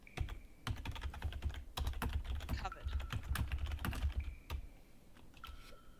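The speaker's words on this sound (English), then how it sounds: "That was one loud keyboard" Loud computer keyboard typing during a tabletop role-playing session: rapid, irregular clacking keystrokes in quick bursts, close and prominent, with brief pauses between runs.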